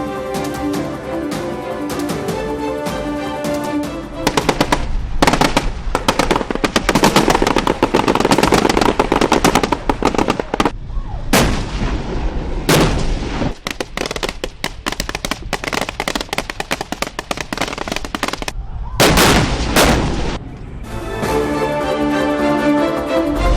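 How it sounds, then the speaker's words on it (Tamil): Artillery and gunfire ring out during a Taiwanese military exercise, with dense, loud bursts of sharp cracks and booms coming in rapid clusters. The volleys are broken by brief lulls, and no voices are heard. "பீரங்கிகள் மூலம் இலக்குகளை அழித்து முழு திறனையும் வெளிப்படுத்திய வீரர்கள்."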